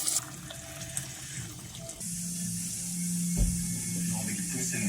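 Hot water, five glasses' worth, poured steadily into a cooking pot, a continuous close splashing and gurgling stream that grows slightly louder and fuller partway through.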